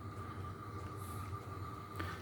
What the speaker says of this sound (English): hang on, train coming. Train!